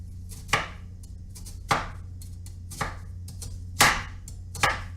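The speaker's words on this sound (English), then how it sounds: "we're going to go ahead and slice these onions perfectly" A knife slices through onions on a cutting board in five separate strokes spaced about a second apart, each a crisp crunching cut ending in a soft thud, close and without voices over a low steady hum.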